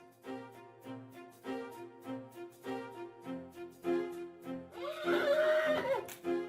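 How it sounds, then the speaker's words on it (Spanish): An agitated horse neighs repeatedly in loud, close, pulsing whinnies, one after another, ending in a harsher, shriller cry. "Lo veo muy alterado al caballo, alterado, haciendo cosas muy raras."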